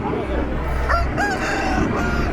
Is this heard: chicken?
yes